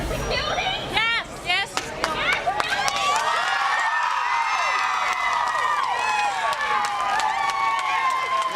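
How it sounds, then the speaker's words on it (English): Agitated crowd outside the Centre County courthouse reacting to the Jerry Sandusky guilty verdict, with shouts and cheers rising over dense crowd noise and scattered clapping, loud and close for the whole stretch. "the crowd just out of the Center County courtroom learning the verdict that Jerry Sandusky had been found guilty"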